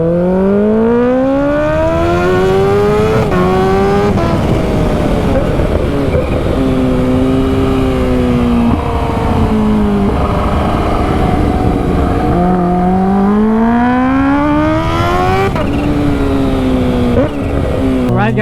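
A Kawasaki H2 motorcycle with a titanium exhaust revs hard and close, its loud engine note climbing and falling through repeated throttle blips over a sustained, droning roar.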